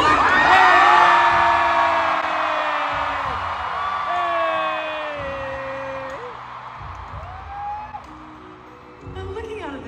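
A large Eras Tour concert crowd in Singapore cheers and whoops loudly, the roar strongest at the start and easing off, with shrill individual yells rising above the mass of voices.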